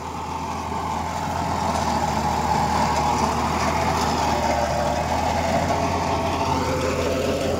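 Swaraj 744 XT 4WD tractor pulling a rotavator through heavy soil, its engine a loud, steady, labouring drone with a rising whine, continuous and close throughout.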